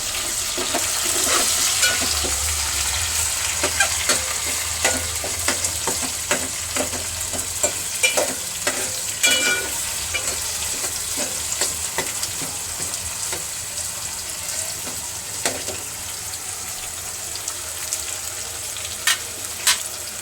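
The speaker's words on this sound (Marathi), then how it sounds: "त्याला चांगला आपण परतून घेतोय." Onion and tomato sauté in a pan for misal, giving a steady close sizzle with frequent scraping stirs and light clatter of the spoon against the pan, continuing throughout with no talk.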